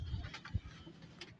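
A desi Jaunsara high-flying pigeon coos softly and close by in a brief, faint burst of low throaty murmurs.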